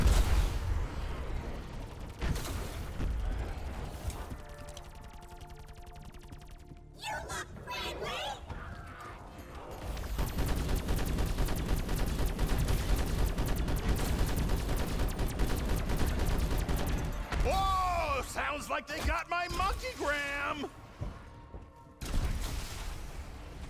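Gunfire in Call of Duty Black Ops 4 Zombies on the Tag der Toten map, bursts of shots mixed with game effects and music, moderately loud with voices speaking in places.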